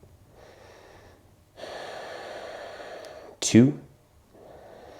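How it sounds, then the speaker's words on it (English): During a yoga stretch, slow, deep, audible breaths come close to the microphone, rising to one sharp, loud inhale-exhale near the end, with a voice briefly speaking. "So taking a few deep breaths here."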